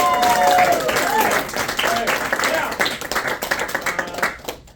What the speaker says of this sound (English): Let's get a round of applause just for that